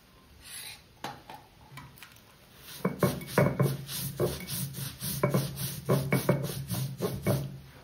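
Roasted dry coconut being crushed fine for a misal recipe, steady rhythmic scraping and grinding strokes, close and rasping, starting sparse then settling into a quick repeated pattern, with no talk.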